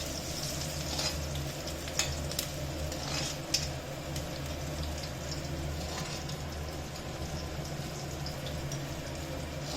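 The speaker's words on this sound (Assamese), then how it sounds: "নহৰু, জলকীয়া, তেজপাত একেলগে দি দিছোঁ। এইখিনি ৰঙচুৱা হ'লেকে ভাজি ল'ম" Garlic, green chili and bay leaf frying together in hot oil, a steady close sizzle with a few brief sharper crackles and pops, no talking.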